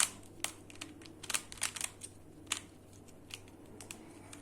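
A plastic Pyraminx puzzle being twisted and scrambled, giving quick, irregular light clicks and snaps that are close and fairly quiet, with no voices.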